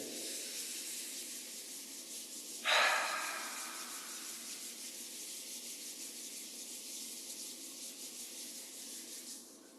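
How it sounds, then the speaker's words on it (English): Palms of the hands rubbing together, a soft steady close rubbing hiss with one brief stronger swipe early on, quiet throughout with no talking. "Rubbing the palms together."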